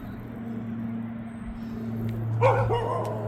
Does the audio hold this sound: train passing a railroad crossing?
no